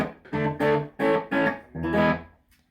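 An electric guitar played through a Mesa Boogie Fillmore 25 amp on its dirty channel, with its reverb not working, sounds five sustained, overdriven chords or notes in a loose rhythm, close and loud, with a dry decay.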